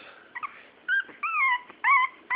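High, drawn-out Shih Tzu puppy whines rise and fall, several whimpers in a row, close by and fairly clear against a quiet background.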